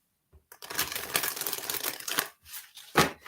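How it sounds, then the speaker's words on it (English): A deck of cards is shuffled for a psychic reading in a few quick riffling bursts, close and crisp, with short pauses between them and no talking. "I'm going to do 3 shuffles, and then I'm going to give a card to Rose"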